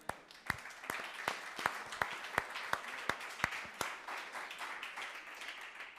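Church congregation applauding for the word of God, a faint scatter of sharp individual claps, roughly a dozen distinct hits over soft, continuous clapping, with no talk over it.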